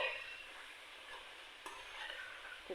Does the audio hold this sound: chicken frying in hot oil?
yes